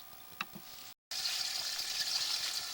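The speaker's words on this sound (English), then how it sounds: "we have water running at full blast" A garden hose turned up to full blast sends a steady, bright rush of water, continuous and fairly loud after a brief dropout, with a faint clatter beforehand.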